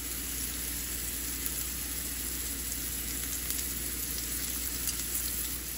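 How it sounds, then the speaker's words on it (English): Beef sears in a hot pan, a steady close-up sizzle and crackle with faint scattered pops, holding an even level throughout and no voices. "we've got good searing"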